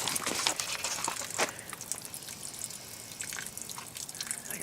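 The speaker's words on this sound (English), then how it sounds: "I got water pouring out." Water poured into the trunk of a 2003 VW Passat W8 runs and drips out of the car, a steady close trickle with splashy drips and no talking.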